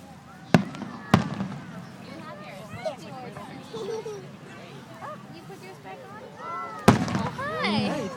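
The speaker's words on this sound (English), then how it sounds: "4th of July fireworks at Dorney." Fourth of July fireworks boom at Dorney, with several sharp loud bursts spaced apart, the last one heavy and close, and a crowd chatters throughout.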